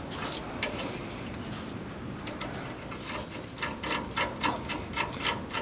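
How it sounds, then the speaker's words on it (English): Nuts on leaf spring clamp bolts on a demolition derby car are tightened with a ratchet, a quick run of rhythmic clicks building near the end over a low background hiss. "take the nuts and tighten those up"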